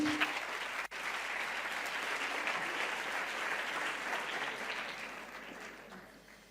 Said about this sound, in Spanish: Un aplauso para entrar en calor.